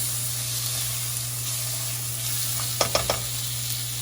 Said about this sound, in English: So you let it saute.